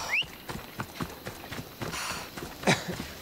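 Horse hooves clip-clopping in Assassin's Creed Odyssey, a steady run of close, crisp hoof strikes with a brief whinny near the start and another at the end.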